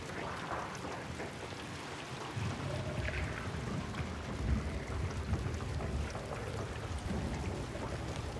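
Heavy rain in a video game, a dense continuous downpour with low rumbling underneath, steady and close throughout with no voices.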